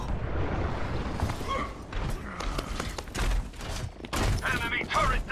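Enemy turret blown apart in an Overwatch match on Temple of Anubis: a burst of sharp thuds and crackling impacts amid constant gunfire, with voice callouts over the battle noise.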